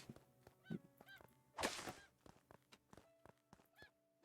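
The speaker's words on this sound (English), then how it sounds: "Gotta beat up a chicken." Chicken in the Craftopia video game squawking repeatedly as it is struck, with honking, goose-like clucks and a louder burst of impact and flapping partway through, set against busy game background sounds.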